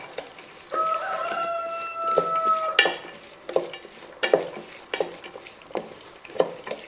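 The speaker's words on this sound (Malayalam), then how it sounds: "ഇനി ഇത് നന്നായിട്ടൊന്ന് മിക്സ് ചെയ്യാം" Ground spices are mixed with chili powder, heard as a string of close, soft stirring strokes and scrapes in a steady rhythm, with a brief tonal hum early on and no talking.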